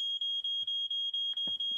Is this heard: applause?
no